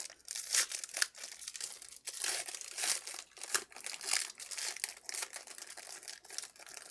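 A 2015 Panini Contenders baseball card pack is torn and crinkled open, giving steady close foil crumpling and tearing with sharp crackles throughout, no talking.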